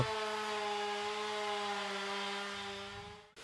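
A chainsaw used for wood sculpting at a village wood festival in France runs at a steady high-pitched whine for about three seconds, then cuts off abruptly and restarts briefly, fairly near and heard alone.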